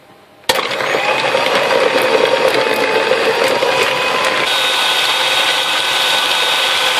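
An electric mixer switches on abruptly and beats butter in its bowl, a loud, steady whirring drone that runs without pause to the end.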